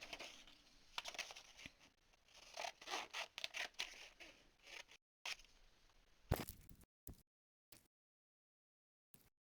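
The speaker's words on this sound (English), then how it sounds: "And I'm just going to cut slightly bigger than what I need." Scissors cut through fabric for a contrasting window pocket: a close, quiet run of rapid snipping and rubbing strokes, then a few isolated snips separated by silence, with no speech.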